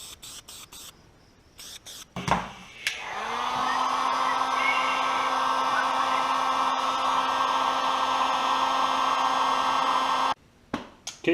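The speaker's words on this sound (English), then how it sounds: "I just hit it with a torch and clean it up and put some heat on it" A torch heats metal parts to dry fresh paint, its steady roaring hiss starting after a few brief knocks and holding evenly for about seven seconds before cutting off.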